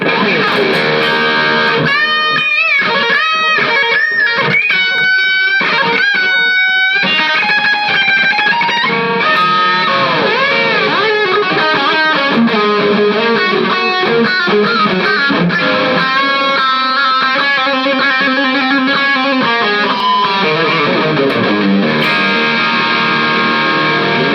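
Distorted electric guitar through a Boss Katana Mini amp connected to an external speaker cabinet, loud and continuous, mixing chopped chords with sustained, wavering lead notes.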